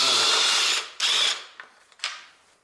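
A bolt on the cylinder head cover of a Honda Civic 1.8 engine is loosened with a ratchet, giving a sustained burst of rapid clicking followed by a few shorter ratcheting strokes that trail off.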